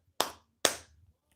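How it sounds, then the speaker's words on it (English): Scattered audience clapping at a WWE Raw wrestling event: two sharp, isolated claps close together, then quiet. "I see 21 people clapping."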